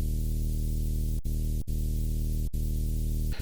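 A synthesized white noise layer in an Ableton bass patch holds as a dense, loud, sustained hiss over a buzzing harmonic drone, cut by a few sharp momentary dropouts, with no voice.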